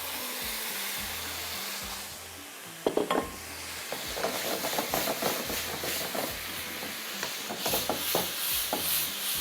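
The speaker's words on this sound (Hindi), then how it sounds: "हल्का सा आपने इस तरह से इसको मिक्स करना है।" A spoon gently stirs bean salad with tomato ketchup and koftas in a bowl, giving soft scraping and clinking strokes in an irregular rhythm after a few seconds of quiet hiss, close by with no talk.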